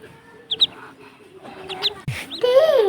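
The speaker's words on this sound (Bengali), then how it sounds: "এগুলো হচ্ছে চীনা হাঁসের বাচ্চা, আর এ 2টা মুরগির বাচ্চা" Chinese duck chicks and chicken chicks peep and chirp nearby in short, high bursts with small gaps, then a louder run of calls near the end, no talking.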